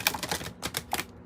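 Tarot cards being shuffled by hand, a quick run of papery clicking bursts: several rapid flutters close by, separated by short gaps, with no voice.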